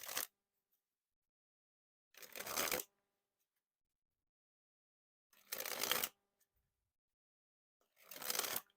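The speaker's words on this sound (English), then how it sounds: "A nice clicky dribble." Bicycle Zombie playing cards of thick stock are dribbled from hand to hand in four short, crisp, clicky riffling bursts separated by silent pauses, heard up close with no talking.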